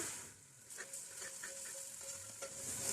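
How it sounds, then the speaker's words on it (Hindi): Garlic and ginger frying with onion and yogurt paste for Rampuri mutton biryani, a faint steady sizzle with a few light stirring scrapes. "थोड़ा सा लहसुन अदरक को फ्राई करने के बाद प्याज और दही की जो हमने पेस्ट तैयार की है ये इसमें सारी डाल देंगे"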